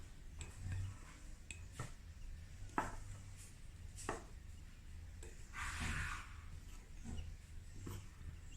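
A fork works butter into flour in a bowl for rough puff pastry, giving soft, repeated tapping and scraping clicks at an uneven rhythm, close and fairly quiet, with no talking.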